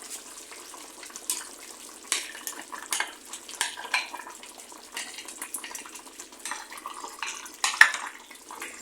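Mushrooms stirred into boiling vegetables in a pot for chicken jardinière, with repeated utensil scrapes and light clatters against the pot over a bubbling, watery background.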